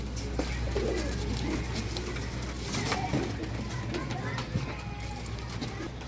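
Pigeons coo in low, repeated murmurs close by, amid a busy background with occasional soft rustles.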